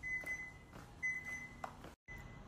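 Home kitchen timer giving short, high electronic beeps in repeated bursts of two or three, fairly close and clear over light room noise, then briefly cut to silence.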